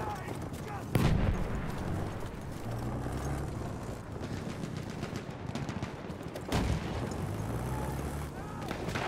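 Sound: grenade explosion in video game Battlefield 1

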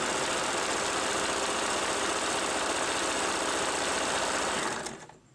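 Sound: electric sewing machine running, driven by foot pedal

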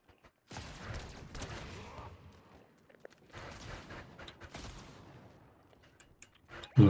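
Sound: gunfire behind the players in the video game Fortnite

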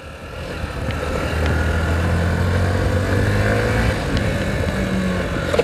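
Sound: Hero Passion Xtec 110 motorcycle engine with worn clutch plate

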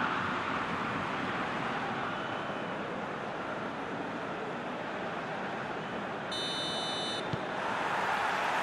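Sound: kickoff referee whistle in PES 2021 video game

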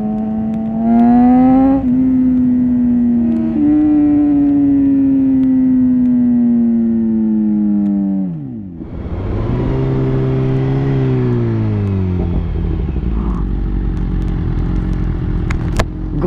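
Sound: sport motorcycle engine revving

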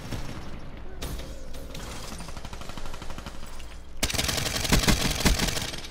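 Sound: gunfire from the video game Black Ops 3

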